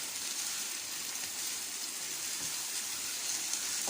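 Chicken frying in a pan over a medium flame for chicken chukka, giving a steady, even sizzle that runs unbroken throughout at moderate level, with no voices.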